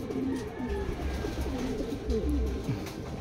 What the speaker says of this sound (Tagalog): Sabay-sabay na sila mga kalapatids dumarating.